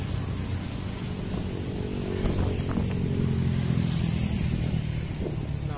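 Street traffic rumbles past near the old port area of North Jakarta, with box trucks and container lorries among the vehicles, a fairly faint, continuous wash of engine noise that swells slightly midway.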